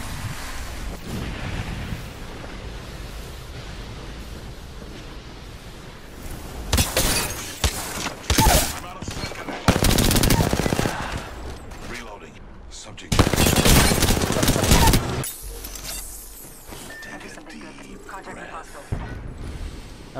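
Apex Legends video game gunfire comes in loud, broad bursts of rapid shots, separated by quieter stretches of ambient game noise, with a voice talking now and then.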